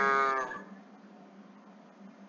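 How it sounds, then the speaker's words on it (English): A single short cow moo opens the moment, loud and close, then quickly drops away into a low, steady background hum with nothing else following. "Cow."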